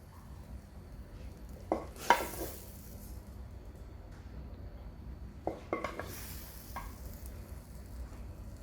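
Green vegetables, bok choy with meat, sizzle softly in a pan while a utensil scrapes and clacks against it in a few brief bursts of stirring.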